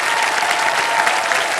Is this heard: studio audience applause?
yes